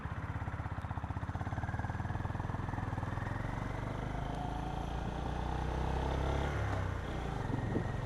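A Honda GB350 S single-cylinder motorcycle thrums steadily in third gear at easy cruising speed, a close, continuous low pulse with wind rush and no talk.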